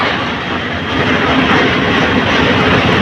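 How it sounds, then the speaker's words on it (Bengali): The Kalni Express, hauled by a Hyundai Korean-built 2900-series diesel locomotive, departs Bhairab Bazar Junction with a loud, steady, close rumble and roar that holds without a break. "কালুন এক্সপ্রেস ট্রেনটি ভৈরববাজার জংশন ছেড়ে যাচ্ছে"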